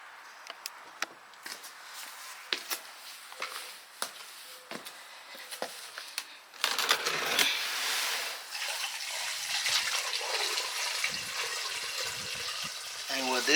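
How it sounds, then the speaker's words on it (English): Water runs and splashes while stainless steel tumbling media and brass cartridge cases are rinsed in a container, beginning with scattered clinks and taps, then turning into a louder, steady rush of pouring and sloshing water. "at this point what I do is I rinse some of the dirty water"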